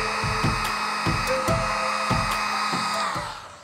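A heat gun warms black gloss vinyl wrap on the chrome window trim of a Mercedes E63 AMG, giving a steady, close airy roar with faint handling knocks that fades near the end.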